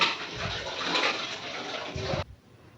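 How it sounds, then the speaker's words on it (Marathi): Hot water poured into a curry masala for a paneer dish makes a steady close splashing stream for about two seconds, then stops abruptly. "या मसाल्यामध्ये पाणी घालून घ्यायचे आहे तर गरम पाण्याचाच वापर इथे करायचा आहे"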